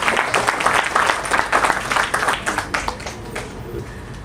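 An audience applauds to thank Vivekananda College for Women, with a loud, busy patter of many hands clapping that thins out gradually toward the end.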